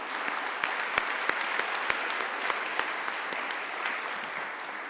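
Conference audience clapping in a hall, a steady wash of applause with a few sharp louder claps standing out, sustained through the whole stretch with no talk over it.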